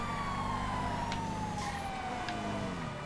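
Police sirens in the video game GTA FiveM, a wailing siren sweeping slowly downward, steady and prominent over a low engine drone, with no talking.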